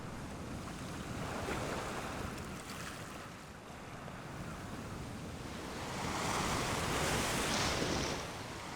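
Ocean waves break on a reef, a loud, continuous roar of surf and churning water that swells and fades, rising to a stronger crash near the end, with no voices.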